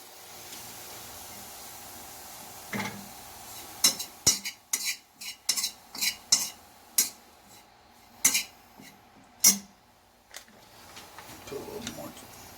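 A spoon stirs a homemade Philippine chewing tobacco mixture with pineapple juice in a pot on low simmer, making an irregular run of sharp metallic clinks and scrapes close by over a faint steady background.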